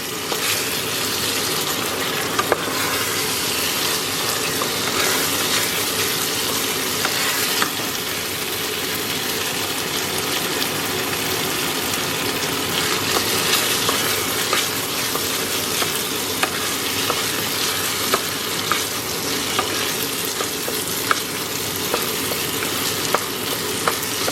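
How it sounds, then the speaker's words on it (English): White wine sizzles steadily in a pan of risotto as it is stirred continuously, a dense, even frying hiss with occasional scraping ticks and no talking. "I have now added around 200 mils of white wine, and we're going to keep stirring this until it is mostly boiled dry"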